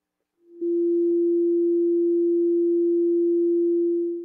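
A pure sine tone plays steadily and loudly after a short fade-in, holding near one pitch with only a slight shift, alone without any voices.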